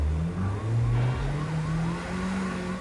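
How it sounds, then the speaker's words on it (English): A police car siren in a driving video game wails in repeated rising-and-falling sweeps over a steady engine drone, loud and close, with no talk. "That's the sound of the police."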